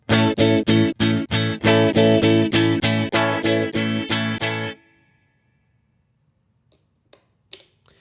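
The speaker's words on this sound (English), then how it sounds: "a little snippet of all the tones you can get from the baritone" A baritone electric guitar, a Tagima TW Series 61, plays a series of loud, evenly spaced strummed chords through its different pickup positions, each shifting slightly in tone, then stops abruptly into near silence with a few faint clicks.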